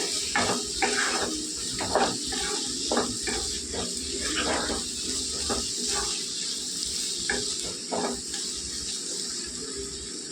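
Water runs and splashes steadily into a pan of brinjal and prawn curry, a continuous hissing pour with faint clinks mixed in.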